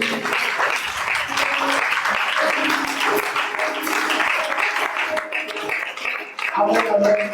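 A church congregation claps continuously during worship, a dense, sustained applause that fills the room. Voices speak and call out over the clapping throughout.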